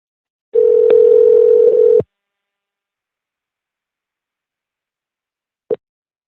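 A single loud, steady telephone call tone lasting about a second and a half while calling someone back, followed by silence and a brief faint blip of the same tone.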